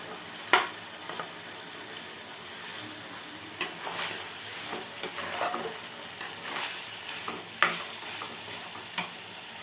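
Meat stirred and sautéed in a hot pan, a steady sizzle under repeated scraping strokes of a spoon against the metal, close and fairly loud, with no talking.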